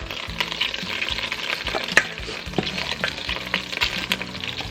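Steak chunks for a steak and potato pie sear in a hot pan, a steady close sizzle broken by repeated scraping and clinking as the pieces are stirred, with no talking.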